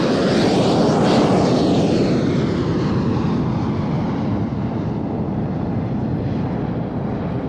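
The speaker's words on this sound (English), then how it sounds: "Talking of East Mids Airport, hey, look at this. Boeing 757 DHL." A DHL Boeing 757 airliner flies past at an airshow, its loud, steady engine roar filling the air from start to finish and fading slightly as it passes, with no voices heard.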